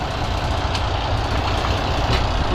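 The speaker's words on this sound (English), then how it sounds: "I'm leaving the engine running." A truck engine left running at idle while the driver is away from the cab, a steady broadband rumble that stays close and fairly loud throughout with no talk over it.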